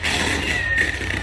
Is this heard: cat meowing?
yes